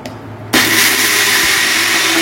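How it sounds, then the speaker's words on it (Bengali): An electric mixer grinder whirs suddenly to life and runs at full, loud speed, blending soaked lentils, ginger and green chilies into a paste, close up with no speech. "এই আদাটা আর দুটো কাঁচা লঙ্কা আমি ডালে দিয়ে একসাথে এগুলোকে পেস্ট করে নেব।"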